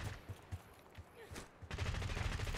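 Rapid bursts of gunfire from a video game firefight around an HVC vehicle crackle in quick succession, growing denser and louder in the second half.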